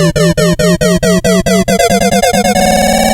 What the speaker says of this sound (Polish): Potem nawet zwiększam troszkę wysokość dźwięku, żeby zrobić taki e, specyficzny efekt narastania.